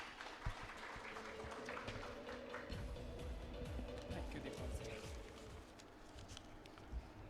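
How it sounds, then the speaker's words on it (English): An audience applauds at a keynote session on taxation, a dense, steady wash of clapping that stays fairly even and moderately loud for several seconds. "with a huge round of applause"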